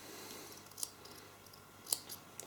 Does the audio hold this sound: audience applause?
no